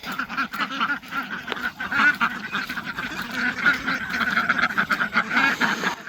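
A group of ducks quacks continuously at a backyard pond on a small farm, a busy overlapping chorus of calls at close range, with no talking.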